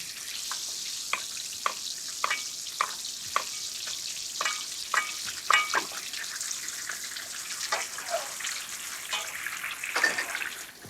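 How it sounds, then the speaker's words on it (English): Dover sole sautéing in a pan over lower heat gives a soft, even sizzle, with a series of light clinks and taps from utensils scattered throughout and no speech. "You can see how this sautéing at a lower heat doesn't create so much splatter."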